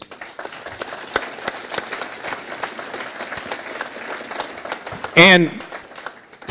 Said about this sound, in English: we'll just have them stand up and give them a round of applause